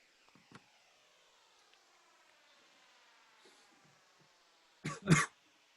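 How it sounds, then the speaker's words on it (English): Two sharp coughs close together near the end, loud and close, after several seconds of near silence with faint small noises. "So I'm coughing in you guys' ears."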